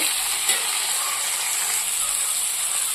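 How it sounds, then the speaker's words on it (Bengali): Onions, tomatoes and green chillies fry in a pan with a steady, loud, hissing sizzle that runs throughout without a break. "তো এগুলোকে ভালো করে সুন্দর করে আমি ভেজে নেব।"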